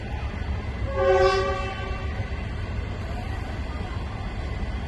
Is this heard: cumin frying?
no